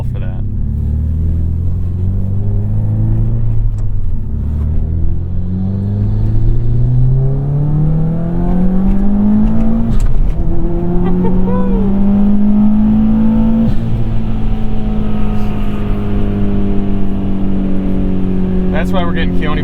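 A 2007 Subaru WRX STI engine revs and pulls through the gears while being driven, with rising and falling tones between shifts under continuous conversation inside the car.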